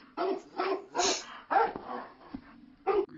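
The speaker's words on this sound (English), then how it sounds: "This dog is making quite a racket." A dog in the video game The Cat Lady barks repeatedly in short, loud bursts with uneven pauses, some yips mixed in, close and clear with little else around.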